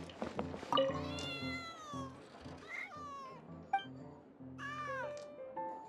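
A cat meows repeatedly in the Genshin Impact video game. The meows are high, drawn-out and wavering, with a few short calls in between, sounding fairly quiet and close over faint game background.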